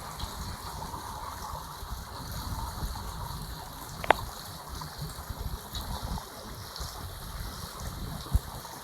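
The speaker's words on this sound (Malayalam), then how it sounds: "താഴോട്ട് വെള്ളം മറിയുന്നുണ്ട്" Steady rushing water spilling over a dam during rain in Kerala, a broad continuous roar with low rumble, plus a brief sharp click midway.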